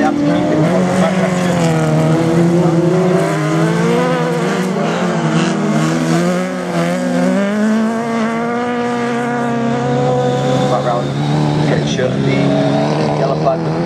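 Autograss race cars in a ladies' class heat at Scunthorpe roar around a dirt track, engines whining and shifting pitch as they pass, with a commentator talking over the noise throughout.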